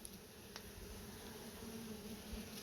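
A soft, continuous buzzing of many honeybees at a hive hums close by, a low droning swarm sound with no talking.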